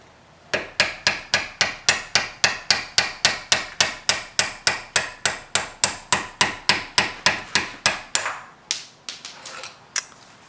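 Steel punch struck repeatedly with a hammer to drive a bushing out of a heated cam sensor body from a 1987 Buick Grand National, about thirty sharp, evenly spaced close metallic taps, then a few scattered knocks as the part frees.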